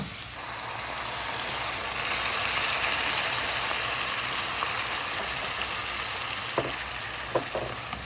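Chopped tomatoes hitting hot oil with frying pepper and garlic in a pan, a loud, dense, steady sizzle close up that swells and then settles, with a few clinks of stirring near the end.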